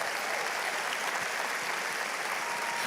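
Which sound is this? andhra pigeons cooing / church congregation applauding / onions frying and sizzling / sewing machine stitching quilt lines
church congregation applauding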